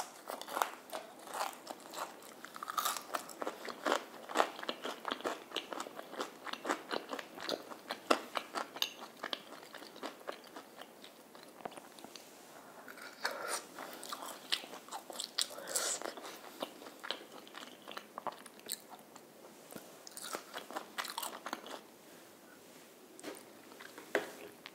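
Crispy fried squid chicken is bitten and chewed close up, with repeated sharp crunches and crackles of the batter coming in a steady run of bites, with no talk.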